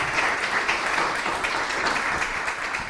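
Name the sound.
applause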